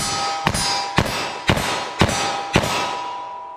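.357 Magnum 158-grain rounds fired rapidly from a 4-inch revolver at a steel target, five sharp ringing cracks at an even pace about half a second apart, each trailed by a metallic clang.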